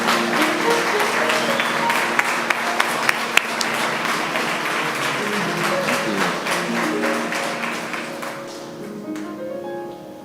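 Applause mixed with a few sharp taps and a lingering tonal, music-like background, the clapping dense early and gradually thinning toward the end.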